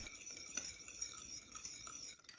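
A spoon clinks against a small container while stirring a teriyaki sauce of water, sugar and soy sauce, giving light, close, irregular taps and scrapes with no talk.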